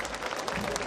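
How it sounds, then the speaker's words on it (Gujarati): An audience at a program against superstition bursts into a short, dense round of clapping, close and fairly loud, lasting under a second. "એક વાર જોરદાર તાળીઓ થઈ જાય એના માટે."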